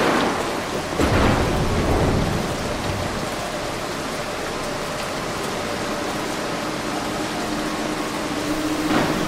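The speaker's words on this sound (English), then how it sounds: "So I have to make sure the lightning strikes first." Thunder from lightning strikes in the stealth video game Mark of the Ninja, loud rolling rumbles over continuous heavy rain, with a sharp crack near the start and another toward the end.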